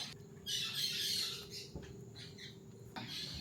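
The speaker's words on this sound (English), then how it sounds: "This is a yellow and blue macaw. This is an Amazonian parrot." Yellow and blue macaw and Amazonian parrots squawk at an exotic animal market in Iquitos, Peru, giving harsh, raspy calls that come close and fairly loud in a few bursts over a constant background hum.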